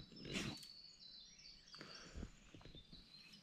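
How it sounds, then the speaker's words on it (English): Birds chirp and call outdoors at a wet campsite beside water, with short bright tweets scattered across a few seconds against a soft ambient background, fairly close and moderately loud. "You hear the pretty birds?"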